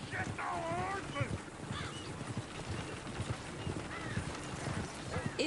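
Horses pulling a runaway coach in Red Dead Redemption 2 clop along in rapid hoofbeats, with a few whinnies rising over the rumble and wind, and a voice speaking intermittently on top.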